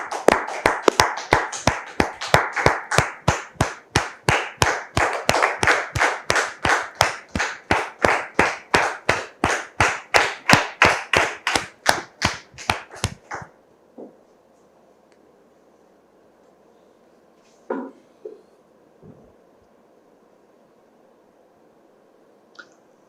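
Rhythmic clapping from a studio audience on a French-language talk show, even synchronized beats for about thirteen seconds that then stop abruptly, leaving faint room tone and a few soft knocks.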